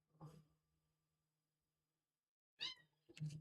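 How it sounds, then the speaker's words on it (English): A pet cat meows loudly indoors: one call at the start, then after a quiet pause two more sharp, squeaky meows close together near the end. "you guys hear that loud squeaking in the background, that's my cat"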